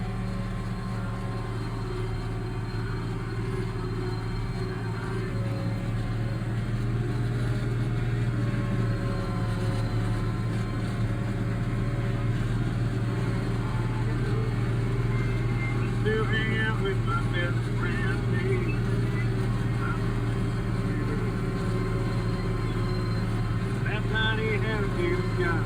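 An IH 3788 2+2 tractor runs steadily while chopping hay in a field, its engine a continuous loud drone with a strong low hum throughout, no pauses, and a faint voice underneath at times.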